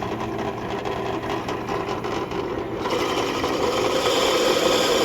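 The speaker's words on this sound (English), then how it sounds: "I built this little jig to drill the same hole in all 8 pieces." A steady, buzzing motor drone of a drill boring holes in metal mount pieces held in a jig, running continuously, growing slightly louder and rougher partway through, with no talking.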